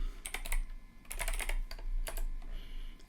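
Bursts of quick clicking keystrokes on a computer keyboard as a terminal command is typed, in three short clusters separated by brief pauses, close and fairly quiet over a low hum.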